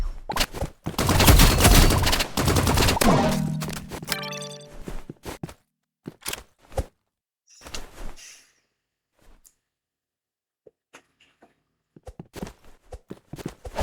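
Gunfire in a video game comes as a loud, dense burst of rapid shots over the first few seconds, followed by scattered single cracks, clanks and footsteps with quiet gaps between.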